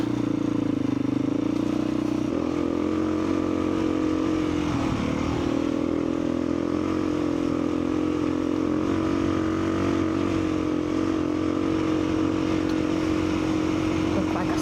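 A motorcycle ridden alone along a trail gives off a steady engine drone with clattering over rough ground, the tone shifting briefly as it pulls away, and a voice occasionally breaks in over the engine.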